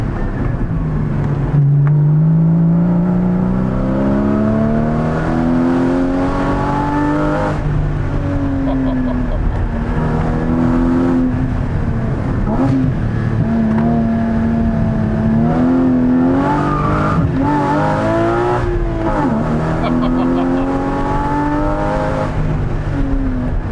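A 2016 Porsche Cayman GT4 engine revs hard through repeated gear changes, loud and close, rising in pitch with each pull and dropping at the shifts, while a voice talks briefly over it.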